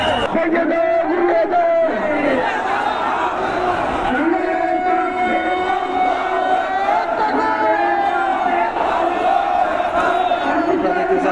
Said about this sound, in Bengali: সেই গেট থেকে কিন্তু তাদের সেই বিক্ষোভ মিছিল কিন্তু শুরু হয়েছে।